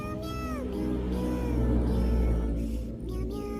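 A cat meows in drawn-out, wavering cries, close and fairly loud, over a steady low background hum.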